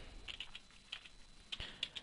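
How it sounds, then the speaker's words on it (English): Quick light keystrokes on a computer keyboard, a handful of soft taps in two short bursts, close but quiet with no voice. "go to Google and then just type in Java"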